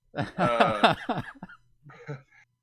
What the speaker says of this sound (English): I know that's a bad time to cough.